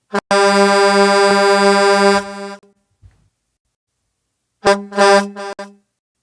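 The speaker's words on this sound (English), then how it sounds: "Don't forget to honk the horn." A car horn blares in one long honk, followed after a short pause by a couple of quick shorter honks, loud and close.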